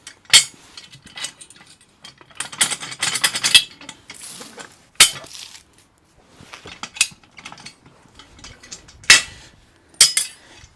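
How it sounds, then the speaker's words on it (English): Metal parts clink and ratchet as cotter pins are pulled and the feet of a Mattos Designs tilt-up tree stand drop down. The sharp clanks and rattles come in irregular bursts, close by, with no talking. "I will take the cotter pins out of the feet here, and then the feet can expand and drop down"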